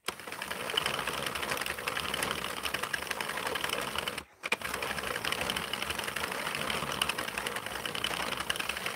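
A 32-pin circular knitting machine runs close by with a fast, even mechanical clatter and whir, pausing briefly midway before carrying on at the same pace.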